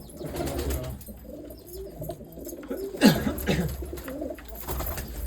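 Red-eyed Kamagar pigeons in a breeder's colony coo in overlapping low, throaty rolls, with one louder bird rising sharply near the middle against a constant flock murmur.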